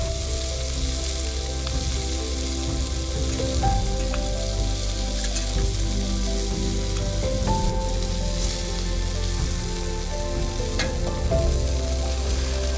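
Milk shark fish frying in oil in a pan for a Kerala fish molee, giving a steady, close sizzle with small pops and crackles throughout, without any talking.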